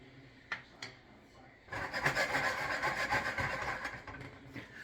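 A wooden spoon stirs tortellini with egg in a bowl, giving a steady scraping, rubbing sound up close for about two seconds after a couple of light knocks.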